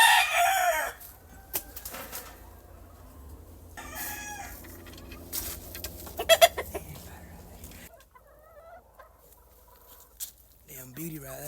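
A man fighter gamefowl rooster crows loudly up close, with clucks and scattered barnyard bird calls around it and someone talking intermittently.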